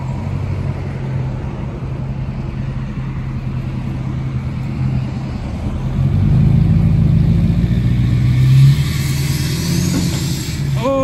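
A vehicle engine idles and then revs slightly as it backs up while hauling a trailer, a steady mid-pitched drone that swells for a few seconds before easing, with a faint whine near the end.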